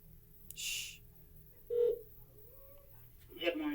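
A prank call to a funeral home starts with telephone tones: short beeps and a brief rising ring-like tone, fairly quiet, separated by pauses with a faint background hiss.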